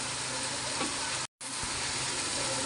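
Ground coriander and cumin frying in a hot pan give a steady, close sizzle with faint stirring scrapes, broken by a brief moment of silence midway.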